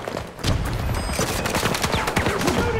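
Battlefield 2042 gunfire in a 48-player team deathmatch: a quick series of sharp, loud shots and bursts crackles close by over busy battlefield noise.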